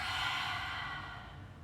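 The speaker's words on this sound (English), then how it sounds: "And exhale it out." A slow yoga exhale, a soft, steady breath out of about two seconds, close and gently fading, with no talking over it.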